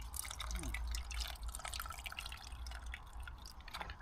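Water trickles and drips into a cooking pot at a tarp campsite, a close, steady splashing pour for a few seconds outdoors.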